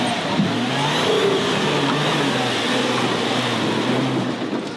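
A DIY off-road dune buggy engine accelerates hard while towing a trailer, a steady loud drone straining close by without pause.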